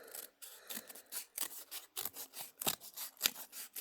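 Rubbish being cut in half for a sculpture, a series of close, crisp snipping and cutting bursts in an irregular rhythm, separated by brief quiet gaps.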